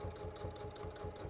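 A sewing machine stitches steadily with a fast, even mechanical whir and rhythmic needle chatter, close and continuous, with no voices.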